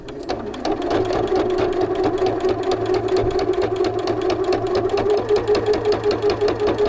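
A sewing machine stitches through four layers of fabric in a fast, steady mechanical chatter, close by and heard alone.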